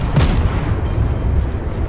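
Warship guns from a Clemson destroyer boom in World of Warships, a heavy, loud blast followed by a sustained low rumble.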